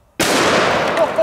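A single loud blast from a 500 Magnum revolver fired at bricks outdoors, a sharp onset followed by about a second of booming, decaying echo.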